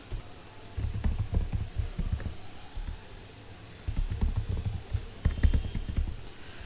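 Computer keyboard typing a password into a database connection form: quick, close clicks and taps in two dense bursts separated by a short pause, clear and alone.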